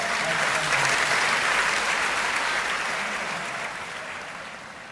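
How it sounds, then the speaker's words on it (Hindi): A large crowd under a pandal at a Hindi kavi sammelan poetry gathering gives sustained, even applause welcoming a poet, a thick wash of claps that slowly fades. "एक बार मेरी जमानत पर जोरदार तालियों के साथ मदन मोहन समर का आमंत्रण करें"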